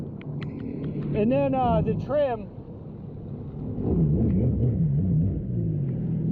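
A fully built Sea-Doo Spark jet ski engine rumbles low and rises in uneven, wavering revs, with people talking nearby over and between the bursts.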